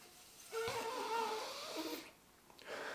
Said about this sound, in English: try to breathe in through the nose like this.